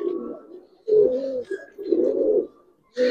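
Giribaz and coloring pigeons cooing in a few separate low throaty bursts, close and fairly clear against a quiet background, with no one talking.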